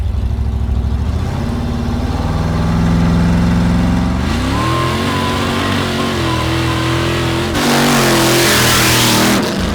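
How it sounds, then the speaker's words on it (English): Blown nitrous 1965 VW Beetle dragster, about 1220 hp, revving in first gear against the trans brake: a loud, continuous engine roar that climbs in pitch in steps and surges harder near the end, with no talk over it. "Bring up the RPM a little bit."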